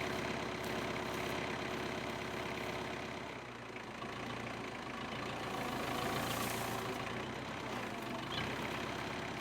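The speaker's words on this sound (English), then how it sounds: "So we've brought in a bigger tractor with a higher mast and we'll have another go." A large tractor diesel engine idles steadily nearby, a low rumbling chug with a faint rattle, running alone without talk.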